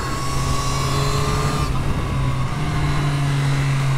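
A Triumph Street Triple RS Moto2 Edition motorcycle rides on track at Silverstone during a MotoGP weekend, its engine giving a steady, loud drone with a sustained tone throughout.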